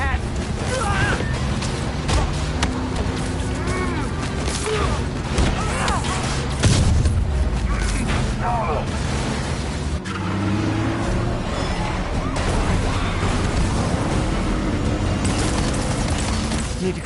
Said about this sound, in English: Why is everyone shooting rockets all of a sudden?